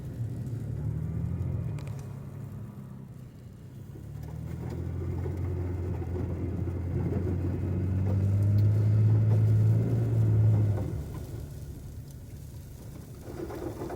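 A pickup truck in four-wheel drive grinds along an uncleared road with a low, rumbling engine drone. The drone swells into a louder, deeper growl near the middle, then eases back down.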